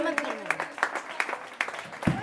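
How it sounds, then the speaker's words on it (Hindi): Audience applause after a children's Jain stage play about the battle of Bharat and Bahubali: scattered, moderately loud clapping under a speaking voice. "जोरदार ताली बजाएं"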